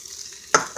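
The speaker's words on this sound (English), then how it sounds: "you can hear them start sizzling" Hot dogs drop into hot oil with onions, a quiet low sizzle that bursts into a sudden sharp crackle near the end, very brief and close.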